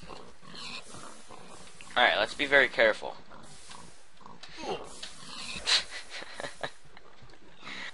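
Pig oinks and snorts come from The Labyrinth video game in a few short bursts mid-clip, under and between a person talking and laughing.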